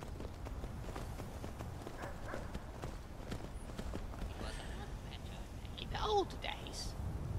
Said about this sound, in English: while I'm riding a horse